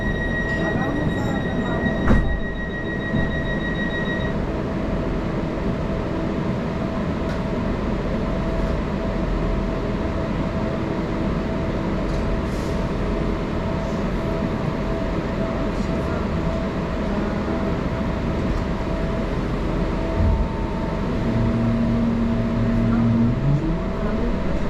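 Steady rumble of a Northern passenger train running on the West Coast Main Line toward Crewe, heard from inside the carriage as continuous loud wheel and track noise, with a brief squeal and soft announcement tones.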